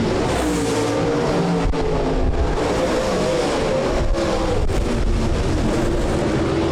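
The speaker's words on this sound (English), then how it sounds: "Single file around the track we go as the cars have separated themselves with quite a bit of distance in front of them" Midwest late model race cars circling Rapid Speedway during a heat race on a season-finale nationals night, a constant loud engine roar with passing swells, no talk.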